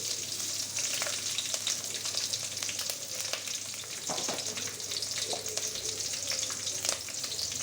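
Green chilies and onions fry in a pan for a snakehead fish and taro dish, a steady close sizzle filling the whole stretch with occasional faint clicks and scrapes.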